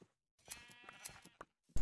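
A sheep in Minecraft gives one quavering, nasal bleat, short and fairly near in a quiet scene, cut off by a sudden thump at the end.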